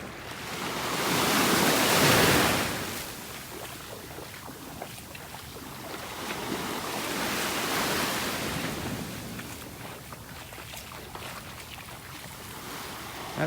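Ocean waves roll in on a beach in North Naples, Florida, with a loud surge of surf followed by softer washes and a steady breezy hiss, no voices.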